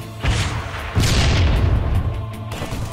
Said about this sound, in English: What the? Weapons fire!